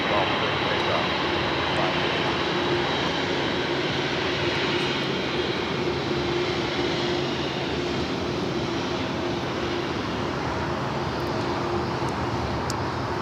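An airplane takes off from runway 25 left at LAX, a steady, broad engine roar that holds loud and unbroken throughout, with faint voices in the background.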